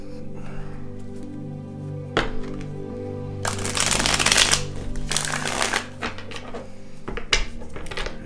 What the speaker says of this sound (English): I call that right there a perfect shuffle.